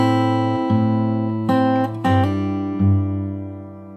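Fingerstyle acoustic guitar plays a song slowly from the start, sustained plucked notes and chords ringing with a few clear new attacks spaced out over the phrase, played alone without talk.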